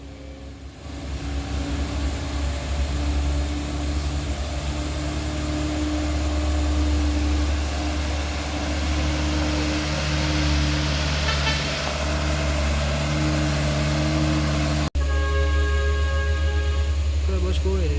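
An Isuzu Elf truck engine labours loudly and steadily while climbing a dusty incline, with a deep continuous drone and a brief break near the end before it picks up again. Voices can be heard over the engine.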